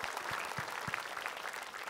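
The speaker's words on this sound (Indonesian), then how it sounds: "Boleh minta tepuk tangannya ibu-ibu?" Brief burst of applause from a women's audience at an Islamic religious talk show taping, dense soft clapping heard at a distance throughout.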